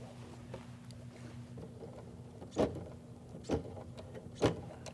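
A sewing machine runs with a steady, close motor hum while stitching through the thick layers of a pants zipper, broken by three sharp thumps as the needle punches through the bulk.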